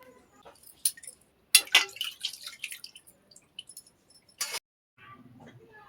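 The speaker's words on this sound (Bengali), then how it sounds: "পেঁপেটা আমি ধুয়ে নেবো ভালো করে" A ripe papaya is rinsed under water close by: scattered splashes, drips and light clinks come in short bursts separated by near silence.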